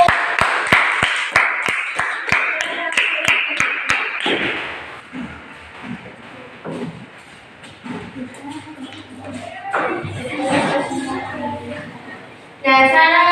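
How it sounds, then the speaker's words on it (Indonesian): Classroom applause for a student group after its presentation, a run of evenly spaced claps at first, then fading under talking voices. "Tepuk tangan untuk kelompok 1"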